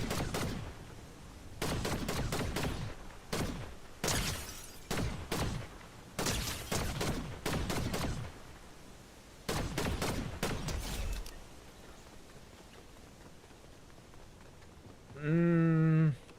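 Video game weapon fire in a zero-build match: several bursts of rapid shots separated by short gaps, loud and close, followed by quiet and a brief tonal game sound at the end.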